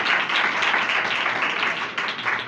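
Congregation clapping at a Sunday church service, dense even applause from many hands filling the room, steady and fairly loud throughout.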